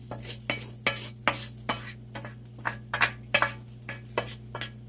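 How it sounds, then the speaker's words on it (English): Onions being stirred into a pot of boiling vegetable beef and deer meat soup, a spoon repeatedly scraping and clanking against the pot in an uneven rhythm over a steady low hum, close and fairly loud. "So we're going to add our onions in there."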